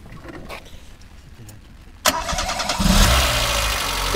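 An old Renault 20 engine cranks and catches with a burst, then settles into a steady, rough idle close by.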